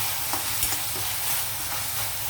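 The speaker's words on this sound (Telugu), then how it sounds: "కొంచెం ఈ అల్లం వెల్లుల్లి పేస్ట్ కొద్దిగా వేగితే బాగుంటుంది కదా, మంచి స్మెల్ వస్తుంది వేగేటప్పుడు." Ginger garlic paste frying in a pan for a chana dal prawn curry, a steady soft sizzle with faint stirring scrapes throughout, close and alone without talk.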